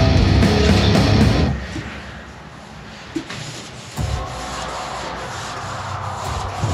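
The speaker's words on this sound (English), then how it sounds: "Now, obviously, when it's done sanded, it's not going to be glossy anymore." Wet sanding with 800-grit paper across the finish of a Jackson King V guitar body: a steady close rubbing swish, louder at first, then quieter continuous strokes with a couple of small knocks, no talk.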